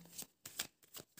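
Tarot cards are shuffled close by in three quick riffling bursts, each a short papery flutter, with brief pauses between them and no voices.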